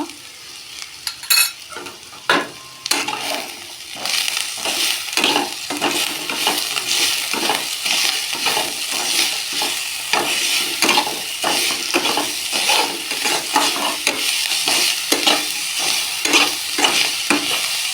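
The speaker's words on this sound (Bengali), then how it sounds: "ভাজার সময় নাড়তে হবে তাহলে তলায় ধরে যাওয়ার ভয় থাকে" Telakucha (ivy gourd) greens fry in oil in a pan while being stirred, with repeated scraping strokes against the pan over a steady sizzle; no one talks.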